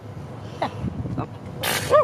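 A single sharp sneeze near the end of a short stretch of quiet talk, loud and close, preceded by brief speech.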